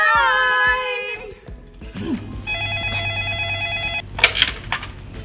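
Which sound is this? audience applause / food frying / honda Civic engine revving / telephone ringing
telephone ringing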